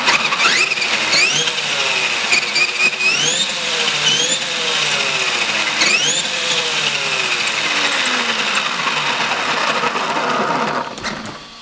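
An X-MAXX 6S RC car motor with a tachometer fitted whines up and down in repeated rising and falling revs, loud and close, with mechanical clicking mixed in.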